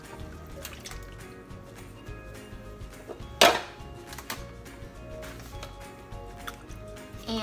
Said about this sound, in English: I'm going to add a can of diced tomatoes and a can of light coconut milk